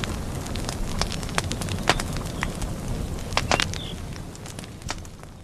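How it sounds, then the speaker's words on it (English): A garden bonfire of burning twigs crackles and pops steadily, with irregular sharp snaps over a dense, rushing roar, close and fairly loud with no talk. "I'm always amazed at the intensity of the heat that comes off a bonfire."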